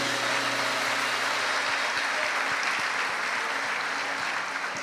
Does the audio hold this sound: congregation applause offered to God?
yes